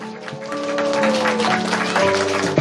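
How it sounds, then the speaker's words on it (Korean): Church congregation applauding together, a dense burst of clapping that fills the whole moment, with a sustained tone and some voices mixed underneath. "박수 좀 쳐주세요."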